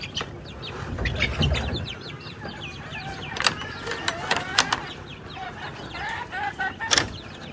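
Naked neck hens and a rooster clucking and calling on a farm, with scattered bird chirps and a few sharp clicks rising above a low, steady background.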